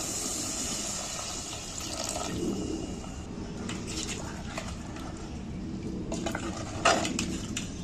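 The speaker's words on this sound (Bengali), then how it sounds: "এইবার আমি জল দিয়ে দেবো পরিমাণ মতো জল দিয়ে দিচ্ছি" Water pours into a pot of village-style mutton curry, a steady close splashing and gurgling with occasional clinks of metal cookware throughout.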